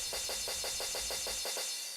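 A looped amapiano sgidongo clash percussion pattern made in Caustic 3, crisp, evenly spaced hits, about eight in quick succession, with a steady rhythmic pulse and a low rumble underneath.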